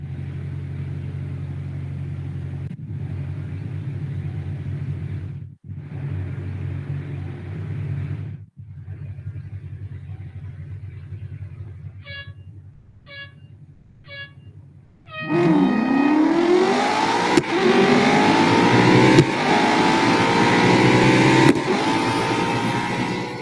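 Brabham race car engine in Real Racing 3 at Dubai Autodrome, a steady droning idle that cuts out in pauses, then a loud rising rev and sustained high-pitched racing roar through gear changes, no talk.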